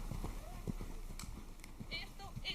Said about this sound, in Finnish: Sä ravaat sillä poniravia.